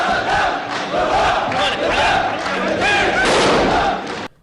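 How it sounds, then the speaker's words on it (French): A large crowd roars and shouts in unison as Saddam Hussein fires a rifle, a loud sustained wall of massed voices and cheering that swells and holds before cutting off abruptly. "il le charge, il regarde la foule et il tire"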